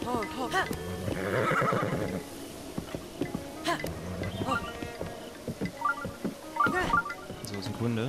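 Horse in the video game Zelda: Breath of the Wild whinnying loudly in a long rising-falling neigh, followed by snorts and shorter whinnies against light wind, with someone speaking now and then.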